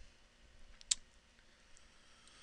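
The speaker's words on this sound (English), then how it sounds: "Hit J on my keyboard to get rid of that irritating box." A single key is pressed on a computer keyboard during a software tutorial, making one short, sharp click, fairly faint and alone in a quiet room.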